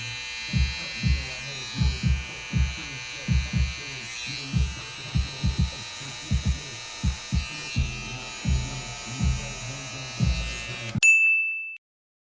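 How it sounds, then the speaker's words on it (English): An electric hair trimmer buzzes steadily while setting a guideline for a mid taper haircut, close and continuous, with soft rhythmic thuds from handling and someone talking over it, then it clicks off near the end. "Now we're going to set in our guideline with our trimmer."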